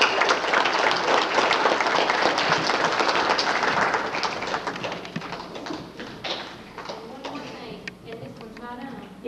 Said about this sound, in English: So if you give all of these adults a round of applause